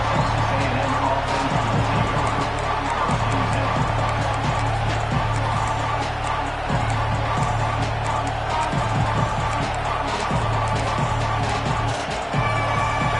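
A stadium crowd in a college football video game roars in a loud, sustained wash, with rhythmic swells rising through the din and a low repeated chant or drum pulse underneath.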